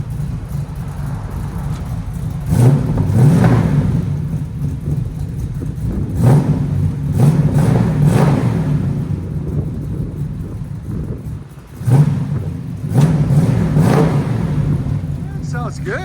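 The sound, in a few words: 1966 Chevy Nova V8 revving with Magnaflow dual exhaust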